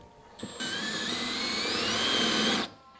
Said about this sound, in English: always trying to drill with a drill bit too big